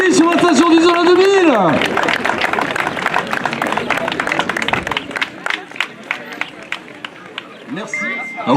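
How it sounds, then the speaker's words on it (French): An audience at a mountain bike enduro prize ceremony at the Isola 2000 ski station claps and cheers in a loud, sustained burst of applause, with an announcer's amplified voice at the start and crowd chatter mixed in. "Vos applaudissements, s'il vous plaît,"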